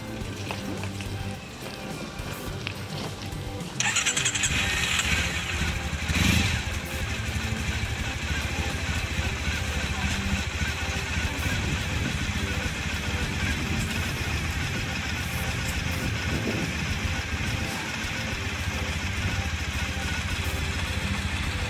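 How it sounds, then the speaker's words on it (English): Triumph Bonneville motorcycle engine idling steadily after an oil and filter change, a continuous close engine hum with a brighter mechanical note joining a few seconds in, no speech. "start the engine and allow it to idle for a minimum of 30 seconds"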